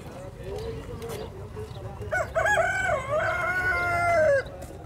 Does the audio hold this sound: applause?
no